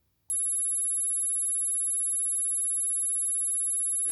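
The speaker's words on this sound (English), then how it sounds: "these are professional test tones provided by the Cambridge College of Audio" A professional audio test tone plays as a pure, steady sine wave, starting abruptly, holding constant for about four seconds, then cutting off, with near silence before it.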